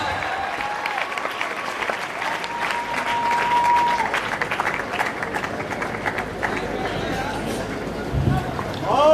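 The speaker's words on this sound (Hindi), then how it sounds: "दीपक जी के लिए तालियां, संजय जी के लिए तालियां" A national business convention audience for eBIZer in 2012 gives a sustained round of applause, loud and steady throughout, with crowd murmur mixed in and a brief louder swell near the end.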